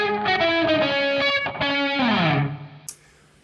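A distorted electric guitar strikes a chord, then plays a run of single notes down a minor scale that slides lower and ends with a quick muted scrape.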